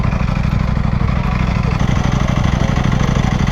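A Ducati Panigale V4R motorcycle on its stock exhaust idles nearby, a steady, loud, low mechanical thrum with rapid pulsing throughout.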